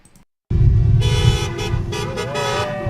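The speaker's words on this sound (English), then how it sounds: "There are many here honking in support, others in frustration" Car horns honking at a roadside protest on the Trans-Canada Highway, several sustained overlapping toots over steady traffic rumble, loud and close, with a couple of shorter blasts near the end.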